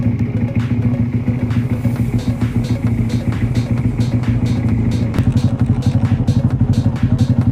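A motorcycle engine idles nearby with a steady, rapid thumping pulse and some mechanical clatter, continuous throughout.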